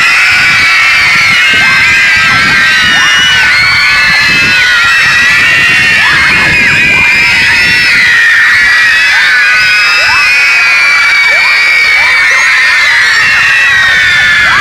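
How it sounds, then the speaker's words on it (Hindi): A group of children at an evening summer camp session shout and scream together at full volume, a dense, continuous roar of overlapping high-pitched shrieks and yells that stays loud throughout. "शोर करने हैं, चीखें मारनी हैं, एक 30 सेकंड के लिए"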